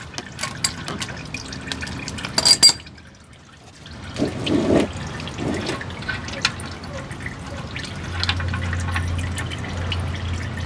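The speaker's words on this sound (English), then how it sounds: "So just a little bit will drip out of there, but then, so when you screw this in, it allows you to drain the filter housing." Oil drips from the filter housing of a 2013 Toyota Sienna during an oil change, with faint, soft liquid drips and small splashes over a low background hum and a few scattered clicks.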